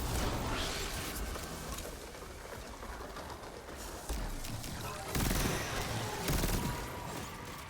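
Gunfire in a shooter video game: dense, continuous bursts of shots and blasts at steady loudness, with a few sharper volleys near the end.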